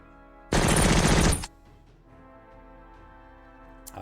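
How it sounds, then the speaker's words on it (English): Machine gun fire in the tactical wargame LnL Tactical Digital, one loud, dense burst of about a second, then quiet game ambience with a faint click near the end. "Well, maybe the machine guns will do something."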